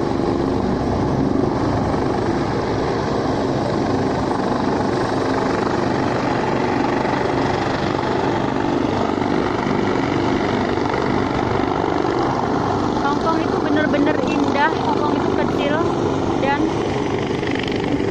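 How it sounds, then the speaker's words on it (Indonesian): A helicopter near the Wan Chai ferry pier in Hong Kong makes a steady, loud rotor and engine drone throughout, with a voice talking over it. "Jadi helikopternya di sana, mendarat di sana, bawa penumpang nanti pergi lagi."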